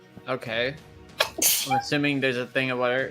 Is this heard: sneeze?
yes